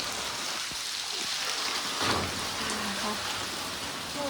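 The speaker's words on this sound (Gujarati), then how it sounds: "જો વરસાદ હજી ચાલુ જ છે" Steady rain patters down continuously, a close, even hiss with a few louder drips and knocks.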